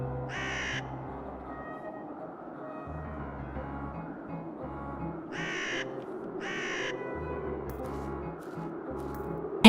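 Crows caw in a scene from the adventure game The Whispered World, several short harsh calls in separated bursts over a low repeating background music loop, no voices.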